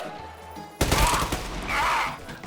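Rapid burst of AK assault rifle fire in the shooter game Trepang2, starting abruptly after a quiet moment and rattling loudly for about two seconds, close and harsh with no talking over it.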